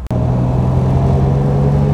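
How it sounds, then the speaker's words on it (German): A 1938 Mercedes 320 Cabriolet A engine runs steadily, a low, even, close rumble with a constant hum and no change in speed. "Aber Motor läuft gut."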